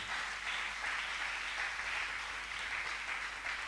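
A church congregation claps and cheers in sustained, even applause that fills the whole short stretch, steady and fairly close with no pauses.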